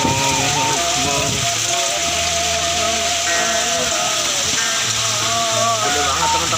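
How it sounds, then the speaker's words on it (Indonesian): Strong wind and heavy hail lash a village in Leuwisadeng, Bogor, as a dense, steady roar of hailstones and gusts fills the scene without pause. "Gede banget anginnya teman-teman."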